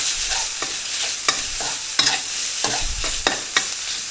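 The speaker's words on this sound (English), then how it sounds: "we're going to throw in the ground pork" Ground pork sizzles in a hot pan for stir-fried cabbage while a spatula stirs it in sharp, irregular scrapes and clacks over a steady frying hiss.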